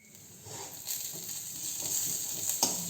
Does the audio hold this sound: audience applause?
no